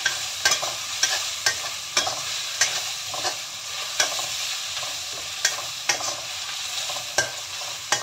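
Carrot fries in a pan for noodles under a steady hiss, punctuated every half second or so by crisp scraping strokes from a spatula. The sound is close and clear, with no speech.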